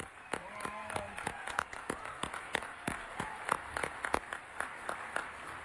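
Scattered claps from an audience at a political gathering, a loose irregular patter of hands rising and falling rather than a full ovation, fairly faint with a little murmuring underneath.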